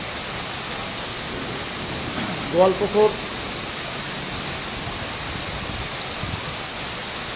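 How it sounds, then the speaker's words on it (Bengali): Heavy rain in a thunderstorm with strong wind gives a steady, dense hiss throughout, and a voice is heard briefly over it. "সেখানেও কিন্তু বজ্রবিদ্যুৎ সহ প্রচণ্ড গতিতে ঝড় বৃষ্টি চলছে"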